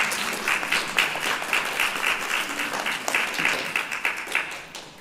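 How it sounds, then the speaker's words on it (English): Audience applause at a nursing pinning ceremony, a steady wash of many hands clapping from a crowd, sustained for several seconds before thinning at the end. "clap for them one more time."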